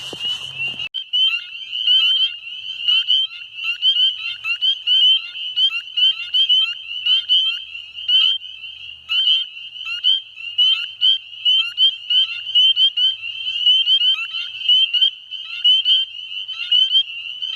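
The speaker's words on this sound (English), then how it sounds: "We got one spring peeper right here. He stopped calling." Spring peeper frogs call nonstop, a stream of high, piercing peeps repeating rapidly and evenly for the whole stretch, with no other sounds.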